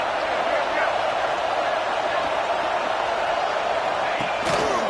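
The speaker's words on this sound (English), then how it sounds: "this crowd is turning it up a notch" A stadium crowd at a college football game roars steadily and densely throughout, the cheering dense and unbroken as play builds toward second down, with an announcer's voice woven into the noise.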